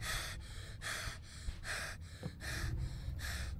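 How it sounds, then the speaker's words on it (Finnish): Heavy, rhythmic breathing from the horror video game Find Yourself, about four slow, loud inhale-exhale cycles repeating steadily and close up with no talk over them. "Voiko tää hengitys loppuu?"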